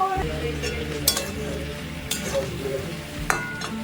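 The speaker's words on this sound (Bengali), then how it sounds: "মাছগুলো ভাজা হয়ে গেছে আর লাউ চিংড়ি হবে, তাই এখানে লাউটাও বসে গেছে, কষানো চলছে।" Bottle gourd stir-fries in a pan for a prawn dish, a soft steady sizzle with a few sharp clinks of a utensil against the pan, and a low hum running underneath.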